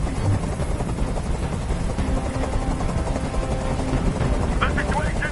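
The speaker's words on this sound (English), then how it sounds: "Tell that helicopter to get out of here." A helicopter in a PS4 video game drones loudly and steadily with a throbbing rotor chop, filling the mix throughout while voices talk over it.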